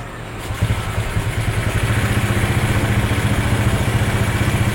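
A Honda Vario scooter engine idles after being started, a steady close rumble with fast regular pulsing that settles in after a brief start-up burst and holds level throughout, with no talk.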